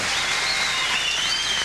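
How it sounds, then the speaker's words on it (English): A crowd at a bowling tournament breaks into a short burst of applause. Dense clapping continues evenly at a moderate level, with no distinct voices. "A little bit of crowd reaction there."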